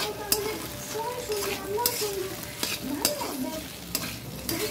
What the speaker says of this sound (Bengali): পেঁয়াজ আর কাঁচা লঙ্কা দিয়ে দিলাম। দিয়ে দিলাম, এটা ভালো করে ভাজা হোক